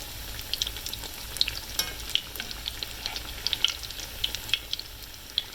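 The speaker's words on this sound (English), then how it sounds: "I do like to put plenty of oil in the skillet" Steady crackling sizzle of crab cakes frying in plenty of hot oil in a skillet, with scattered sharp pops and spits throughout, close and moderately loud.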